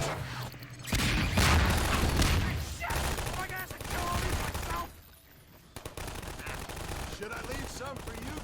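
Automatic turrets in Half-Life 2 Episode Two unleash bursts of rapid gunfire, loud and close, with brief lulls between volleys and voices shouting intermittently amid the shooting.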